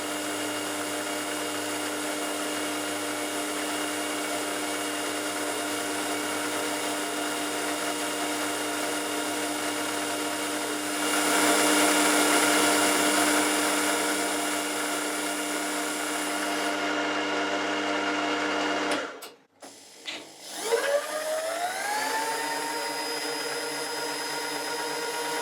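A machine tool with a freshly fitted sharper cutter runs a steady whining, droning cut on an Anglepoise lamp holder part for about twenty seconds, briefly intensifying midway, then cuts off abruptly and spins down to a lighter hum.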